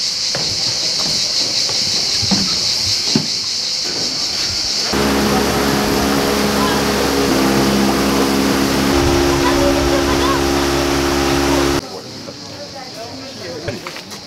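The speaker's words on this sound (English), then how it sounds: "Now, we're going back in the boat." A tour boat engine in Matka Canyon near Skopje drones loudly with steady hum and water hiss, with quieter ambient noise before and after the engine section.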